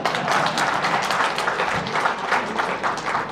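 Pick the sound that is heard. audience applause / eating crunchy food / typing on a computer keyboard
audience applause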